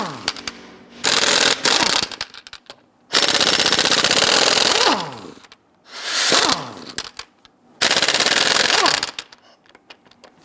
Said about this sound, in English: Using a 22mm socket, loosen and remove the lug nuts.